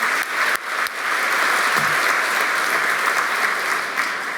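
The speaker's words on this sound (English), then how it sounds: "let's give them a round of applause" An audience bursts into sustained applause for volunteers at a benefit event, a dense steady clatter of many hands clapping, loud and continuous throughout.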